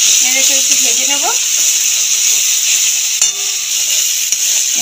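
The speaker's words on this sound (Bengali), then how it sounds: "এবার মশলাটাকে নেড়ে একটু ভেজে নেব।" Spices with turmeric stirred and fried in oil for a Bengali fish curry, a loud dense hiss of frying throughout, with a brief voice near the start and a faint clink later.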